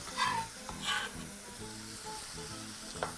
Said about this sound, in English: using a small spoon, just proceed to mix everything together